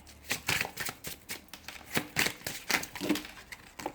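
A deck of oracle cards shuffled by hand, giving a steady run of quick papery riffles and flicks repeating for several seconds, close and crisp with no voices.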